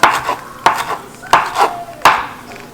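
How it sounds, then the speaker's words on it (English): A knife chops a half bunch of cilantro on a board for pico de gallo, four sharp, evenly spaced strikes close up, each followed by a lighter rocking tap, with no talk. "So you just want to give this a good chop just to try to release as much of the flavor as you can."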